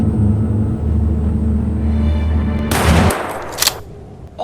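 Pistol gunshots from the Animal Jam video game: a loud burst of blasts and sharp cracks after a rumbling stretch, with a few quick reports near the end.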